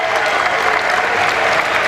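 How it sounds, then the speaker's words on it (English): A home crowd at a PAC men's college basketball championship game applauds in a steady, dense clapping wash with a few voices mixed in. "But a round of applause from the home folk"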